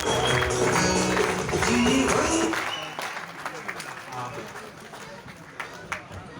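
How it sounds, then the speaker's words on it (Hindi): A seminar audience breaks into applause to welcome a guest, the clapping dense and loud at first under a speaking voice, then thinning to scattered claps over the final seconds. "हम सब लोग खड़े होकर सम्मानित करते हुए ताली बजाते हुए उनका स्वागत करेंगे"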